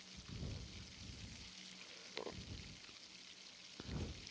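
Chicken pakoras frying in hot oil in a kadai, a soft steady sizzle and bubbling with a few louder pops and crackles as pieces settle in the oil.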